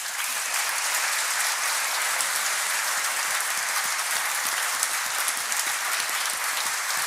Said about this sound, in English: So one final round of applause.